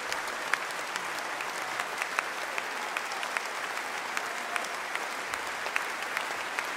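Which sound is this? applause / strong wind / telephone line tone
applause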